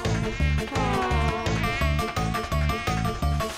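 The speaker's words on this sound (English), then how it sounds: "you silly Mosquito." A cartoon mosquito whines in a high, wavering buzz over a bouncy, rhythmic music track, steady and prominent throughout.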